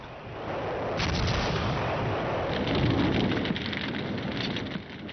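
Artillery and mortar fire in WW2 Pacific island war footage, a dense, steady roar of distant explosions and gunfire blending into a continuous rumble with no talk.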